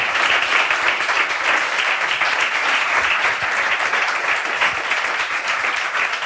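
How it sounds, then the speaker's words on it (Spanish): A live audience at a Spanish talk-show event applauds steadily, a dense, loud wash of many hands clapping without a break for several seconds. "Le damos un aplauso."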